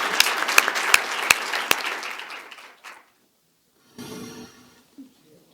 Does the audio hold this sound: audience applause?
yes